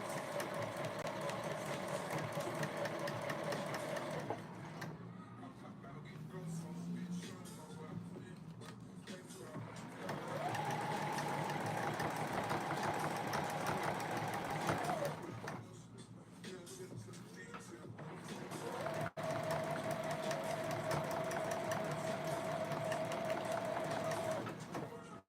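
Sewing machine stitching fabric over pins, a steady mechanical whir in three sustained runs, with brief pauses between bursts of stitching.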